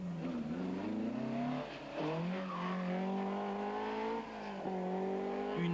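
Rally-style race cars such as a BMW with a wild exhaust and a turbocharged Porsche 935 climbing a twisty hill course, loud revving engine howl rising and falling through gear changes, with tire squeal mixed in.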